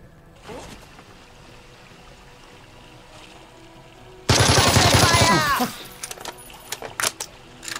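Gunfire from the tactical video game Jagged Alliance 3, a loud dense burst of rapid shots lasting about a second and a half, followed by a few scattered sharp cracks, with quiet game ambience before it.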